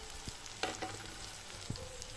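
Tomatoes fry with spices in a pan for vegetable biryani, giving a soft, even sizzle with a few faint clinks of stirring, quiet and without speech.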